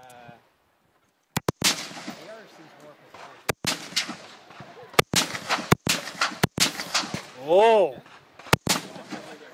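An AK rifle fires sharp, loud gunshots outdoors, single cracks and quick bursts spaced across the clip, with a brief exclamation from a voice between shots.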